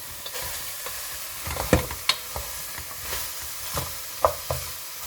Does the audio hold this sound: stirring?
yes